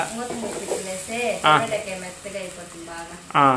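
Chicken curry fries in hot oil with a steady sizzle beneath talking voices, and a louder burst of spattering rises briefly near the start and again at the end.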